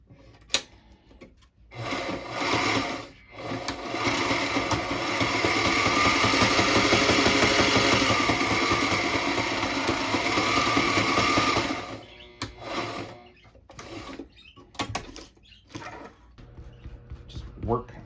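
A sewing machine runs a long continuous stitching burst through a leather wallet, close and fairly loud, with brief starts, stops and handling noises around it and a voice talking in the gaps.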